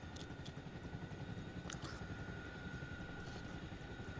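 Heavy Chinook helicopter rotor drone in the Arma Reforger game, a steady low throb filling the cabin for the whole stretch, with faint radio chirps over it.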